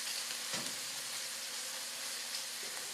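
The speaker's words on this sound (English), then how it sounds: "We're just going to let these saute till they're softened, which is happening very quickly" Garlic sautéing in a pan, giving a dense, even sizzling hiss that runs without a break, with a faint scrape or two of stirring.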